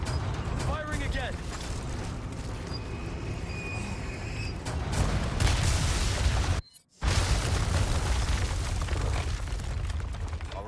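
Weapon fire and explosions from the Resident Evil 4 Remake, with handcannon, knives and throwables: a dense, loud run of booms and blasts with a brief cut of silence in the middle, under talk.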